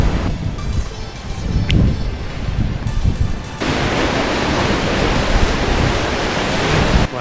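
Waves washing in at Second Bay, Australia, on a hot, very windy morning, steady surf roar mixed with wind buffeting the microphone, growing louder and denser partway through, with no one talking.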